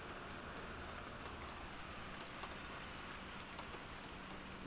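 Heavy rain pours down outdoors in a steady, dense hiss of drops striking surfaces, loud and continuous throughout with no voices.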